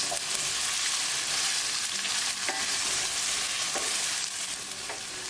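Chopped onion and green chili fry in a hot pan, giving a loud, continuous sizzle with occasional stirring scrapes, and no talking.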